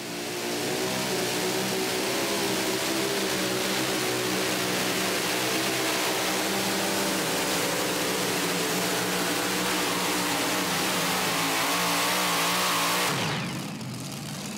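A loud, steady pulling-tractor engine roars continuously with a heavy low drone during a mini-modified tractor pull pass in Tomah, Wisconsin, then cuts off abruptly near the end.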